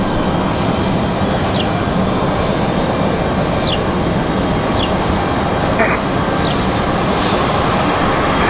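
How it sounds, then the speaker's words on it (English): A departing airliner at Raleigh-Durham airport gives a steady, loud broadband roar that holds unbroken for the whole stretch, with faint voices mixed in. "Another nice looking departure, great sounding departure as well."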